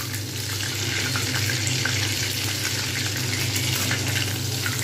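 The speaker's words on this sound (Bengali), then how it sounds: "প্রথমে একদম আস্তে কুক করছিলাম, তারপরে এবার কিন্তু জোরে তুলে দিলাম।" Chicken pakora fries in hot oil over a high flame, giving a steady, dense, loud sizzle that holds unbroken throughout, with no voices.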